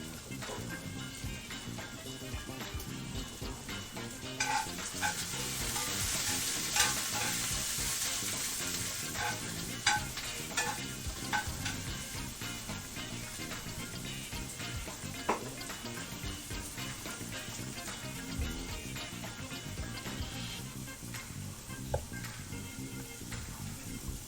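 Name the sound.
onions frying and being stirred in a pan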